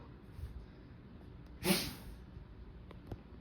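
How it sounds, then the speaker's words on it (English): A dog named Biscuit lets out a single short sneeze partway through, a close snorting burst against quiet room background. "can't stop sneezing"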